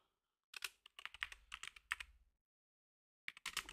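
Fast typing on a computer keyboard, a dense burst of clicky keystrokes for about two seconds, then a pause and a short second flurry. It is fairly quiet and close, with no voices.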